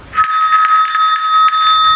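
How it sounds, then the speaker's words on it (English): A small, good-quality bell tied on a blue ribbon for a Montessori mobile rings clearly and crisply, with repeated close jingling shakes that sustain a bright, ringing tone throughout. "Did you hear the sound of the bell?"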